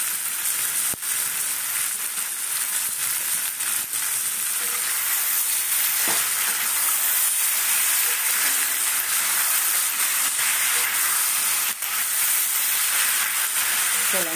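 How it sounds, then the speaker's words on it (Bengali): A mixed vegetable curry with drumsticks, sautéed in a pan, gives a steady, close sizzle and hiss with a few sharp stirring knocks, constant throughout, with no talk. "চলো আমি একটু কষাই"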